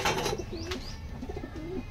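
Giribaz pigeons coo in soft, low, repeated throaty phrases close by, with a brief faint chirp among them and no talking.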